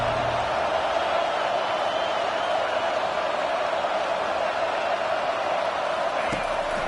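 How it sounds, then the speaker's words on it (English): A stadium crowd in an NCAA college football video game roars as a steady, dense wash of noise behind continuous commentary, with no distinct peaks. "Listen to this crowd just shaking the girders of this place trying to help their defense."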